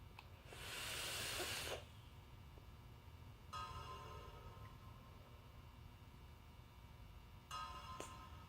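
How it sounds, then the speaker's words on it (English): A Cuboid 150W temperature-control box mod fires as someone vapes, producing a soft, faint hiss in three breathy pulses, the first the longest and strongest, over quiet background noise. "So let's have a vape on this."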